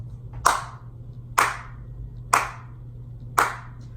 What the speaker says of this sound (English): Slow clap for week 6 because week 6 was special.